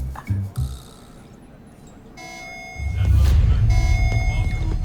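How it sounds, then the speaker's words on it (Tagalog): General alarm in a Voltes V Legacy episode: a steady electronic tone with high beeping harmonics that rises in loudness and keeps sounding over a low rumble, with brief voices at the start. "Alarm na naman. General alarm to."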